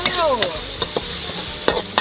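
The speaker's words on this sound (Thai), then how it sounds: "เราจะเริ่มผัดกันแล้วนะคะทุกคน" Close sizzling of food frying in an iron wok, with repeated scraping and clanking of a spatula stirring against the metal.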